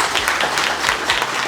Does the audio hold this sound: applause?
yes